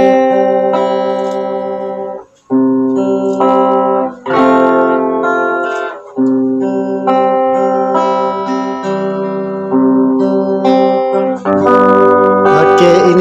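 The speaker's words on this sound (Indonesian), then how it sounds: "ini suara gitar." Guitar track from a home recording made with a GoLiveMic, soloed with the singer muted: sustained strummed chords ring loud and clear in phrases, with brief gaps between them and a brighter burst near the end.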